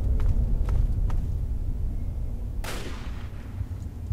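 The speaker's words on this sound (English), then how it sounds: "that was definitely a shot" Gunshots in the video game Fallout 3: a few faint distant thumps followed by one sharper, louder crack with a decaying tail, over a low steady ambient rumble.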